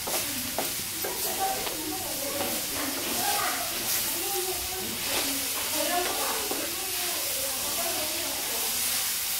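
Mushrooms fry in a masala in a pan, giving a steady close sizzle with stirring clatter, while a voice talks over it throughout.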